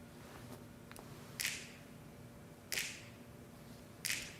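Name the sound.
recorded finger snaps at start of tune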